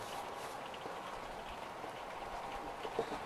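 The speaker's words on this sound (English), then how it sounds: "starting to rain good now." Rain falls on a camping tarp as a soft, steady patter with scattered drops. The sound is faint and continuous, with one slightly louder tap near the end.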